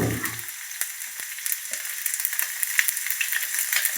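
Tomato and onion frying in a pan for country chicken sukka, a bright continuous sizzle with crackling pops after a brief low thud of food dropping in, close and lively, no voices.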